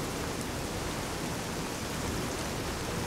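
Rain falls in the video game Fallout: New Vegas as a dense, even hiss that stays constant and fills the whole moment without any voices.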